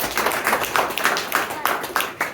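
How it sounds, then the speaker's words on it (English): A small gathering at a community event claps in a brief, sparse round, a few people's distinct hand claps sounding in a loose, uneven rhythm close by. "So let's give a nice round of applause for State Senator Andrea"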